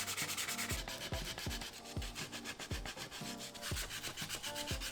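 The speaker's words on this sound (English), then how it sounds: "So let's go ahead and get to sanding on this." Rhythmic hand sanding of a large glued replica of the Godzilla blueprint, steady back-and-forth scraping strokes with regular low thumps from each pass, close and continuous with no talking.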